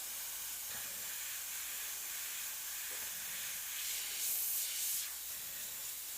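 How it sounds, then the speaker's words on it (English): An airbrush sprays custom paint in a continuous soft hiss that holds steady, swelling briefly louder for a moment near the end. "we're going to give it a good spray"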